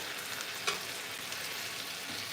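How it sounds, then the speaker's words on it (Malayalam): Chicken frying in about 100 grams of butter for homemade mandi, a steady soft hiss of sizzling fat with one small pop, heard close and alone. "ഈ നൂറ് ഗ്രാം ബട്ടറിലാണ് നമ്മൾ വറുത്തെടുക്കേണ്ടത് ചിക്കൻ വേവിച്ചെടുക്കേണ്ടത്"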